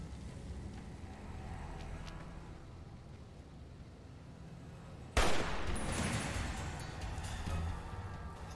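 Gunfire rattles in a hardcore-mode Fallout: New Vegas Lonesome Road session, at first a distant crackle of shots over a low rumble, then a sudden loud blast followed by denser, nearer firing.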